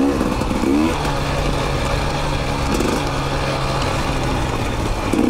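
Motorcycle accelerating hard on a road ride, its loud engine droning steadily up through the gears with a steady rush of wind, the rider's voice faintly mixed in.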